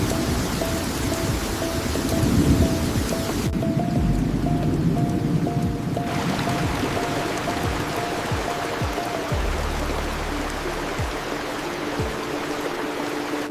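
Heavy tropical rain pours in a steady dense hiss, with low thunder rumbles rolling in and out beneath the downpour.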